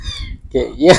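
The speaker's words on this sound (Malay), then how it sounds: "kalau korang dengar bunyi kucing aku dekat belakang lah, tengah berusaha nak keluar daripada sangkar dia" A pet cat in a cage meows twice, close and loud, trying to get out, while a person speaks briefly in the background at the start.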